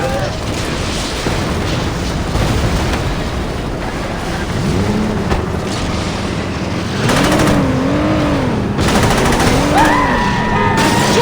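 Gunfire in the Saints Row video game comes as rapid, continuous bursts of shots and blasts, with engine noise and shouted in-game voices mixed into the chaotic firefight.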